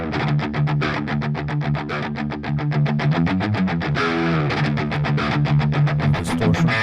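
Electric guitar played through a free neural amp modeler plugin on its clean setting, a steady run of picked notes and chords ringing out clearly and loudly with no talking.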